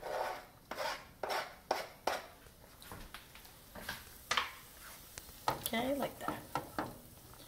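Shallots and garlic dropped into melted butter in a pan, giving a run of close clinks, scrapes and stirring strokes in an irregular rhythm under a faint sizzle, while someone speaks briefly.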